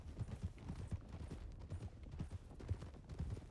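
Horse cantering in a Red Dead roleplay game, its hoofbeats a steady rhythmic clip-clop that stays close and even throughout.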